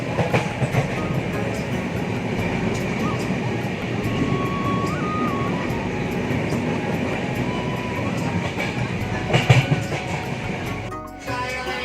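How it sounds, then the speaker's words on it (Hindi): Passenger train running along the line out of Haridwar, a steady loud rumble of wheels and carriage noise with faint clickety-clack throughout, briefly dipping near the end. "ट्रेन में बैठ गए अपनी सीट पर और ट्रेन निकल चुकी है हरिद्वार से आगे"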